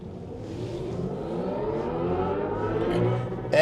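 2025 MINI Countryman E electric car's artificial go-kart mode driving sound, a synthetic humming whir that climbs steadily in pitch as the car speeds up, heard from inside the cabin with a brief bump at the end.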